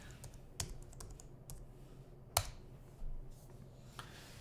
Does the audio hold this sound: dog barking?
no